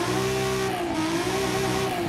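A 2006 Nissan 350Z with a twin-turbo inline-six in Forza Horizon 5 revs hard and steadily, its engine note rising and settling, loud and close with faint tire noise and no speech.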